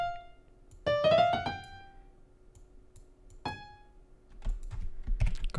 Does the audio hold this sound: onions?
no